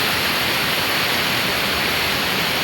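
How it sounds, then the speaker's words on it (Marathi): River floodwater rushes continuously, a loud, dense roar of turbulent water with no pauses across the short stretch. "तुम्ही बघत असाल हा महापूर"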